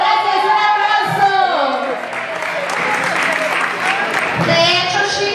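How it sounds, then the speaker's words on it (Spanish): Crowd at a Zumbathon dance event in Nogales applauding, sustained clapping and some cheering under an amplified voice speaking over it, with music-like tones at the start and end. "Gracias, un aplauso"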